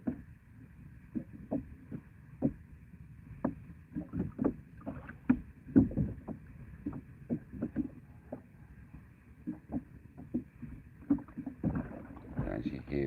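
Fishing lure bumping the sea bottom in shallow water, heard through the hull of a kayak as a steady series of soft, dull knocks, about one or two per second, close and fairly faint.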